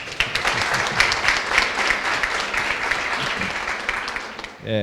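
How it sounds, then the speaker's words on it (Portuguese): An audience at a talk claps for two guests in a sustained, even round of applause that fades out just before a voice begins speaking at the end. "Pode aplaudir os dois."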